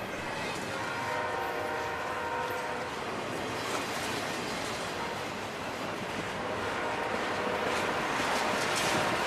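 CSX Q130 freight train led by ES44H 998 and SD50-2 8541 rumbles past steadily, a broad continuous roll of wheels and engines with some higher tonal whine throughout, loud and close with no talk.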